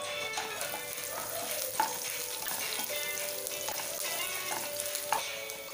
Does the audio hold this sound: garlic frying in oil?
yes